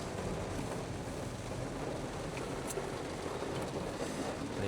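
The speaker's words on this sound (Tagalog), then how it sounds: "Hirap umuulan kasi." Rain drums in a steady broadband hiss on a Honda Civic RS e:HEV 2025 during a morning drive, heard from inside the cabin as a constant wash with low road rumble beneath.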